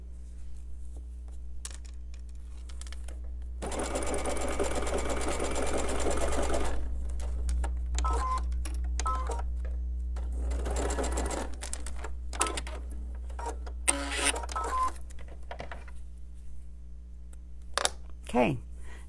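A sewing machine chain pieces half square triangles for a quilt, a close three-second burst of rapid whirring followed by a longer run, then scattered clicks and handling noises over a low steady hum, with a voice speaking at times.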